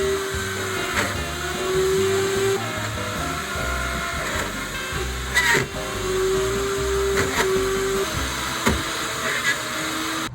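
A router cuts a poplar wood template, a loud continuous whine with shifting pitch and bursts of rough cutting noise as the bit bites into the wood, with no talking.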